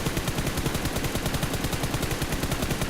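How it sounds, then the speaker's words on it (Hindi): Rapid automatic gunfire in the shooter game BGMI during a solo-versus-squad match in Pochinki, a fast even stream of sharp shots throughout, loud and close. "इधर की तरफ से और भी फायरिंग के साउंड आ रहे थे"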